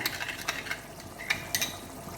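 Lemon being stirred into chicken biryani masala with yogurt in a pan: a few soft, quick scraping and clinking strokes over a faint background hiss, close and fairly quiet.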